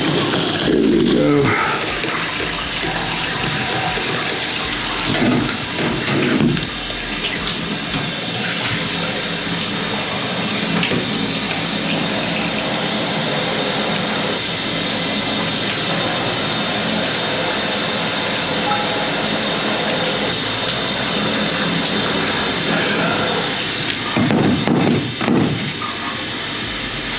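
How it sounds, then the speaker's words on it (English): Water sprays steadily and close by from a shower head that is not working properly, a continuous hiss and splash running almost the whole time while people talk over it. "So this shower head's not really working the way it's supposed to."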